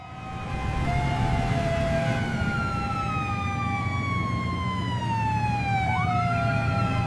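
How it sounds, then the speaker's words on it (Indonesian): A police escort car's strobe siren wails without a break, its rising and falling tones sweeping loudly for several seconds, heard alone from a car on the way to a school. "Ada suara strobo itu lagi"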